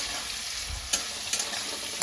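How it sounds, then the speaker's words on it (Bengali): Prawns frying lightly in a pan for a Bengali bottle gourd curry, giving a steady close sizzle broken by a few quick clinks of a spoon against the pan. "না ভাজলেও হয়, কিন্তু আমি একটু অল্প হালকা করে ভেজে নিলাম।"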